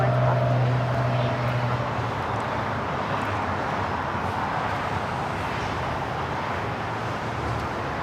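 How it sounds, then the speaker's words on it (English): A Boeing 777-300ER takes off from Los Angeles LAX, bound for Tokyo Narita, making a loud, steady broadband jet roar that holds at the same level from start to finish. "Flight 11 taking off to Tokyo Narita on the 777-300ER"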